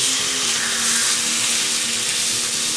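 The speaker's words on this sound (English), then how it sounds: "So you hear that sizzle" Steady hissing sizzle of steak frying in a hot pan, close and continuous, with a faint low hum beneath.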